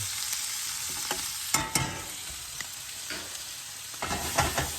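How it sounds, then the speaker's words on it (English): Bacon, onions and garlic sizzle steadily in a pan, a constant bright fry broken by a few louder crackles and stirring clatters, close and alone with no voices. "So we got bacon and onions that are gonna go in there."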